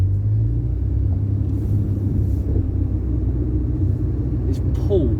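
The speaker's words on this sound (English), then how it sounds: "Oh, that's nice acceleration." A car's engine rumbles low and steady from inside the cabin as it accelerates on a drive, a continuous close drone with someone speaking over it.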